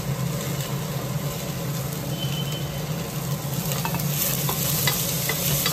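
Cabbage, beans and peas stir-fried in a pan, giving a dense, steady sizzle with faint stirring scrapes throughout, close and even in loudness.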